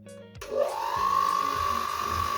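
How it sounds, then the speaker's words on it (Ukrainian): An electric hand mixer whirs up after a brief quiet start and runs steadily, beating room-temperature butter to a creamy consistency for a German cheese and berry pie, a continuous motor hum with faint rhythmic scraping in the bowl. "Міксером збиваємо масло до кремоподібного стану."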